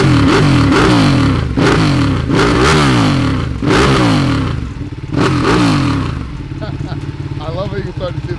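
A motorcycle from a collection fires up already warm and is blipped through several rising and falling revs, loud and close, before settling into a steady, lumpy idle.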